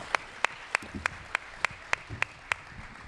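At a congressional district candidate forum, a single pair of hands claps about nine times in an even, measured rhythm, sharp and distinct against a quiet room with faint background murmur.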